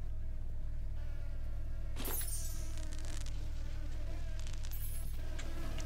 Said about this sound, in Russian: Мухи зарядятся сейчас огнем.